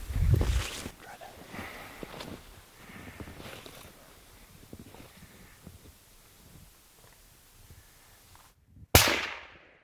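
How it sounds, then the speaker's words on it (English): A suppressed rifle fires a single sharp crack at a mule deer over 500 yards away during an Idaho hunt, coming near the end after low rustling, faint voices and a brief hush. "We have a silencer go, Omega, on the gun, a silencer, so we're gonna see if we can get the shot."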